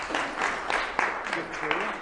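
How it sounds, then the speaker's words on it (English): Meeting audience at the AIMA Auckland monthly gathering applauds for about two seconds, a steady dense patter of many hands at moderate volume with a voice speaking over it. "let's give them a round of applause"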